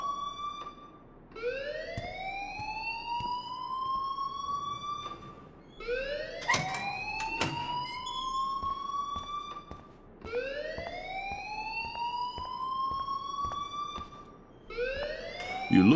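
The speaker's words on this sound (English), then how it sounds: "please turn off that alarm since that's your job" Alarm wailing in the video game Life Is Strange, a rising siren-like tone repeating in long cycles, moderately loud and steady throughout.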